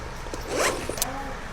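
A zipper on a belt bag is drawn in one short, quick rasp, close up, over a steady room background.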